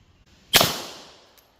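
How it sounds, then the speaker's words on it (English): A single close, sharp gunshot from a 147 grain subsonic LAX reload hollow point round, fired at a 40-foot target, cracks out and decays over most of a second, with a faint click just after. "up first, we are going to fire the 147 grain, supposedly subsonic, LAX reload hollow point"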